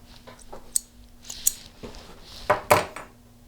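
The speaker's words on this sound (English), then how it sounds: "and then snip your threads" Small sewing scissors snipping threads at a sewing machine, a few sharp metallic clicks and snips spaced irregularly, close and fairly quiet with no talk.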